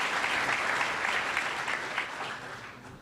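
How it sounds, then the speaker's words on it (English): A crowd claps steadily in a hall for a high school track athlete being introduced at a sports awards celebration, with dense sustained applause that fades slightly toward the end. "Give Jaciana a round of applause."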